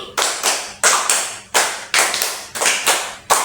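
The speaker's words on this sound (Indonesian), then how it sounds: "tepuk 3, tepuk 4, tepuk 5, tepuk 5 2 kali" A classroom of students claps together in counted bursts, loud and close, with short pauses between the groups of claps and no talking.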